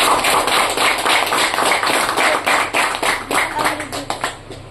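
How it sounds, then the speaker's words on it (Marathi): Audience members at a juice product information session clap together loudly and rhythmically, the claps close and strong at first and then thinning and growing more irregular toward the end. "तर एकदा तुमच्या सर्वांच्या सेहतसाठी एकदम जोरदार टाळ्या व्हायला पाहिजे"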